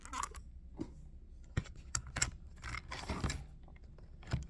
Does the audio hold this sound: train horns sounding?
no